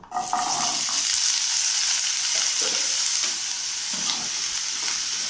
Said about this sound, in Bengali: এবার আমি এর মধ্যে আলুগুলোকে একটু ভেজে নেব।